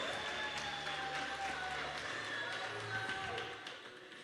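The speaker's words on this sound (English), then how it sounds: "A round of applause." Faint scattered clapping from a small crowd at a youth event in the Northern Cape, a soft, even patter that fades out toward the end.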